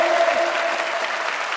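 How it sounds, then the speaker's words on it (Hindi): A seminar crowd in Prayagraj claps steadily, with dense, continuous applause filling the hall at an even level while a faint tone runs underneath. "तालियां बजाते रहिए,"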